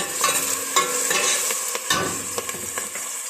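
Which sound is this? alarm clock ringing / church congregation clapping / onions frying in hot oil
onions frying in hot oil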